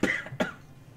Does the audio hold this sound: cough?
yes